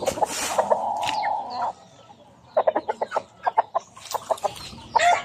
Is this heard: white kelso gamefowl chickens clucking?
yes